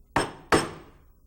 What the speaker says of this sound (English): I'm going to take a mallet and drive that down.